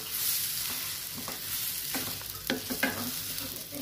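Mushroom prawn curry sizzles in a pan under a soft steady hiss, with a spoon scraping and stirring in irregular strokes that grow busier toward the end.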